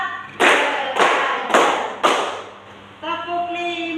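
Four sharp, evenly spaced group hand claps ring out in a classroom during a teacher's counting game, each clap crisp and loud, followed by a voice speaking.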